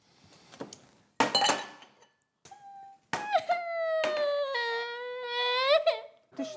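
A young child cries at home: a couple of short sobs, then a long wavering wail that rises and falls in pitch, loud and close, with a faint clink of a cup or glass nearby.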